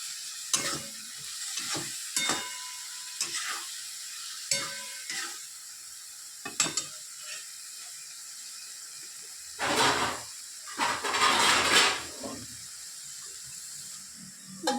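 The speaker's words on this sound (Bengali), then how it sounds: "টমেটো, ক্যাপসিকাম, ওই পেঁয়াজ কলি আর মটর ফুটে দিয়ে আবার কষবো" Tomato, capsicum, spring onion and peas sautéing in a pan, a steady hiss punctuated by sharp scraping stirs, with louder sizzling bursts toward the end.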